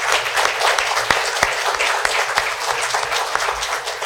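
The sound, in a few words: audience applause at end of debate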